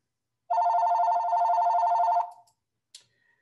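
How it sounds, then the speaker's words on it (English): A telephone rings once in the background during an online symposium presentation, a steady trilling ring lasting about two seconds that cuts off abruptly, followed by a faint click and then silence. "that's the phone in the background."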